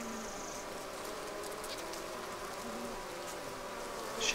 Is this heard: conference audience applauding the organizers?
no